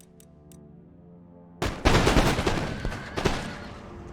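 Musket volleys crash out in Empire: Total War after a quiet opening, a dense rolling burst of gunfire followed by scattered further shots and crackle, loud and close.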